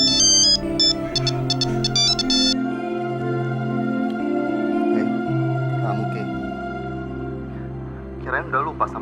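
A mobile phone ringtone for an incoming call plays loudly and continuously as a repeating electronic melody, with a brief voice-like sound near the end.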